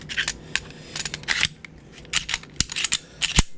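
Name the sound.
reassembling a S&W M&P 2.0 Compact pistol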